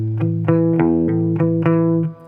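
Distorted electric guitar playing a palm-muted power chord riff, with chords changing over steady chugging downstrokes and several accented hits, played alone and close before the last chord cuts off.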